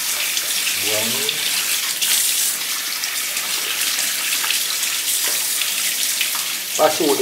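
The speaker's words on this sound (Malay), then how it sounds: "Basuh dengan air yang mengalir." Tap water runs steadily while a freshly caught, gutted sea fish is rinsed under it, a continuous close hiss with brief splashes and knocks, and a few faint voices underneath.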